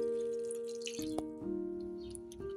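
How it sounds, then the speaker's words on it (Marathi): A little water goes into a pan of brinjal masala, a brief soft pouring and dripping over a low hum, close and fairly faint. "थोडंसं पाणी घालायचं."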